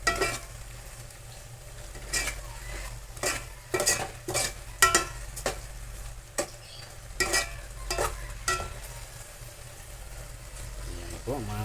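Eel stew in coconut milk with moringa leaves being stirred in a pot, scraping utensil strokes recurring every second or so over a low simmer, close and moderately loud, with a voice speaking over it at times.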